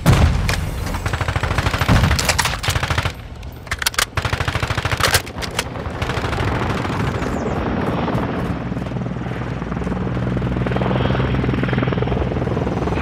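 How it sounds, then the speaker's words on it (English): A military helicopter hovers throughout a Call of Duty: Modern Warfare II hardcore team deathmatch on PS5, its steady rotor drone loud and close, with bursts of machine-gun fire and gunshots in the first few seconds. "Overwatch helo ready to deploy."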